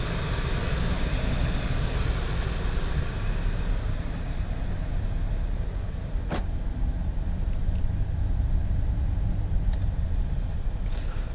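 Cabin of a 2021 Volvo XC90 Inscription SUV on the move, with steady low rumbling road and tyre noise plus a soft windy hiss, a couple of faint clicks, no talking.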